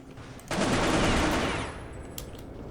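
Dense burst of video game gunfire during a team shootout, a loud sustained volley of shots lasting about a second before trailing off into a quieter rumble of distant firing.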